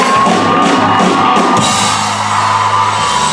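A loud convention audience at a Seattle fan panel whoops, yells and cheers in a dense, continuous roar, with clapping mixed in and no break throughout.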